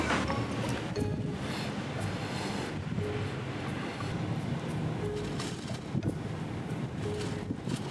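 Strong wind sweeps the Jeju coast at Sacho, a steady broadband roar with gusty swells and constant rumble throughout, loud and close to the microphone, no speech.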